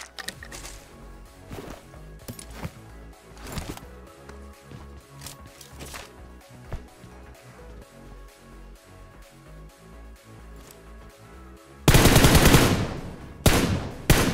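Gunfire in BGMI battle royale gameplay: scattered single shots and short bursts at first, then a loud, dense close-range burst near the end.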